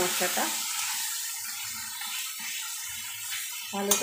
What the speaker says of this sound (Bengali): মশলাটার সাথে কষিয়ে নেব যতক্ষণ না টমেটোটা ভালো করে নরম হচ্ছে